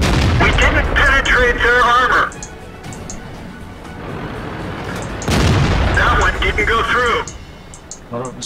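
Heavy tank cannon booms from a World of Tanks battle, loud broadband blasts near the start and again midway, with people talking excitedly over and between the shots.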